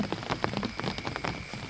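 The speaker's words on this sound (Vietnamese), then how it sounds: "trời bắt đầu nó mưa, chuyển mưa rồi các bạn" Rain patters on surfaces at a campsite during a camping trip, a steady close hiss broken by scattered drops tapping, with no voices.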